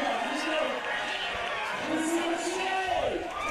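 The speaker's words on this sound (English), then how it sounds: "The crowd are into it, though. The crowd are absolutely loving it." Crowd noise at a beach volleyball final in Sydney, a lively roar with cheers and whoops, partly under a commentator's speech.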